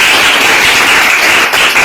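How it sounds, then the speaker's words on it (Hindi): A crowd of parents and teachers at a school workshop claps loudly and steadily in applause for the teachers of classes 1 to 3, a dense, continuous patter without pause. "सबसे पहले उन शिक्षकों के लिए एक बार जोरदार ताली बजाइए"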